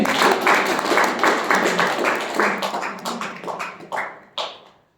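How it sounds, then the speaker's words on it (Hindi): Seminar audience applause, a loud, rhythmic burst of clapping that loosens and tapers off into a few final claps. "जो भी जिसने भी पावर कट लाया उसके लिए जोरदार तालियां बजाइए।"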